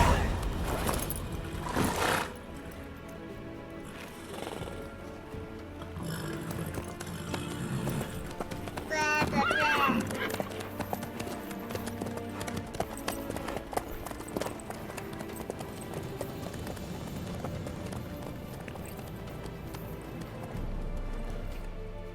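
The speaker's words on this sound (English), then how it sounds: "How's your horse? Swift? Can't complain." Horse hooves clip-clop in a steady trotting rhythm in The Witcher 3, with a neigh near the middle and ambient game sound throughout, while voices talk at times.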